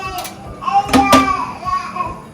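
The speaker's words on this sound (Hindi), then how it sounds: "पीछे आपको बेबी की आवाज़ आ रही होगी।" A voice babbles and squeals briefly in the background, faint and short, amid a quiet room.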